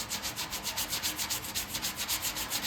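Body filler on a car panel is hand-sanded with a 180-grit block in quick, even back-and-forth rasping strokes, about five per second, close and moderately loud with no talk.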